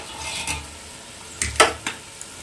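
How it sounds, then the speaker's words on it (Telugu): Spoon stirring mint, curry leaves and coriander through a pot of biryani, a few soft scrapes and a sharper clink against the pot near the middle, close and fairly quiet with no talking. "పుదీనా కరివేపాకు అలాగే కొత్తిమీర ఇలా బాగా మిక్స్ చేసుకోవాలి"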